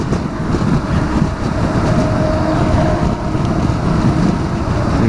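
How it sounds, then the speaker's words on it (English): Strong storm wind buffets a rider on a motorbike, a loud, steady, rumbling roar that never lets up. "Crikey, that's a lot of wind."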